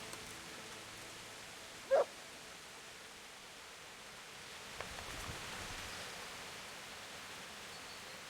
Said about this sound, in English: There's the good doggy.